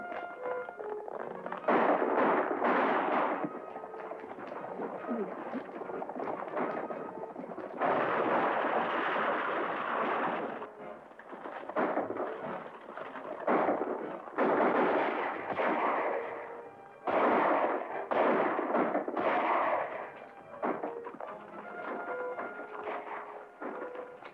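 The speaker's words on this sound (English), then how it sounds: "Whoever's doing that shooting is helping us." Gunfire in a 1941 western film, heard as a long stretch of crackling, popping shots in dense, uneven bursts with short lulls between them, at moderate loudness.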